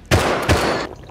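Explosive ammunition fired in the survival game Rust gives two sharp, loud blasts in quick succession, each with a short crackling decay.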